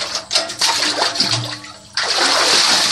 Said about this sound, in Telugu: ఇటు మనం కోడి కడిగే ముందు బకెట్తో నీళ్ళు వేయాలండి చూడండి